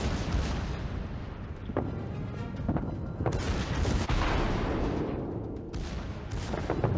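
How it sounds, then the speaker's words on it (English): Heavy naval gunfire from the Großer Kurfürst battleship's main guns in World of Warships, with several sharp booming shots rising over a constant roar of battle noise and ongoing secondary fire. "He's now also trying to get some hits with his main guns."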